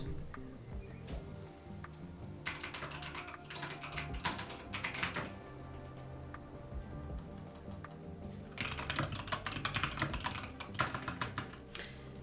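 Computer keyboard typing in bursts during a writing session, fast clustered keystrokes at moderate distance over quiet background music with sung lyrics, pausing briefly between flurries.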